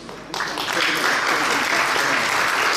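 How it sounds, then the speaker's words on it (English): Loud, steady applause from an audience at the Bosphorus Summit, a thin patch of quiet before it swells into continuous clapping that holds to the end. "I think we all should applaud and salute Cengiz."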